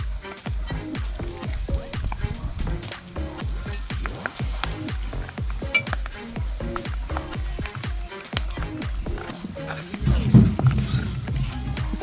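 Flour-dusted pork pieces for sweet and sour pork fry in hot oil, giving a steady stream of crackling pops and spatters at moderate volume with no talking.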